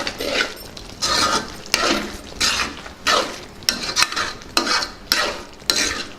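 Green pea paneer curry is stirred in a pan with a spoon, giving close, rhythmic scraping strokes about once a second over a faint simmer.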